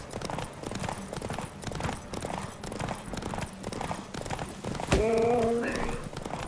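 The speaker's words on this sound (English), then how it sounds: "este caballo es una peste corriendo entre árboles" A horse gallops through trees in The Witcher 3, its hooves beating a steady clip-clop rhythm through most of the stretch, ending in a short whinny near the end over a faint game background.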